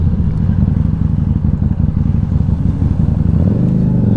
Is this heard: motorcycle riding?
yes